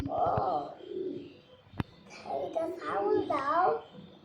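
A hungry pigeon chick calls for food with squeaky, rising and wavering cries and soft coos, close by, with one sharp click partway through.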